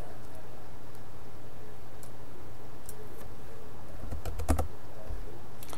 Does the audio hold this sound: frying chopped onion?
no